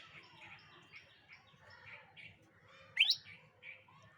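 A trapped tailorbird gives a few sharp, high chirps near at hand, with one louder call rising above the quieter tweets over a low background rumble.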